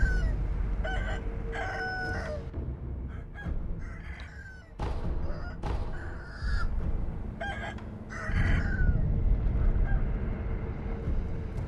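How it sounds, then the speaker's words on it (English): A rooster crows repeatedly in Sekiro: Shadows Die Twice, several drawn-out calls standing out over a steady game ambience with no talk. "That rooster."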